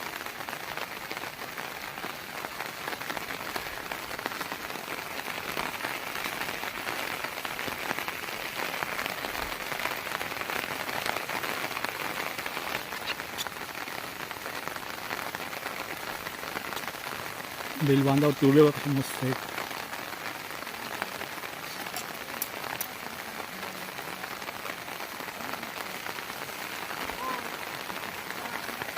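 Rain falling steadily on a Konkan farm field and its bunds, a continuous fine hiss that lasts throughout, with someone talking over it and a brief louder knock partway through.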